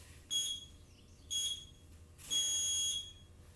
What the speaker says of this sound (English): Stop beeping at me, you stupid clock.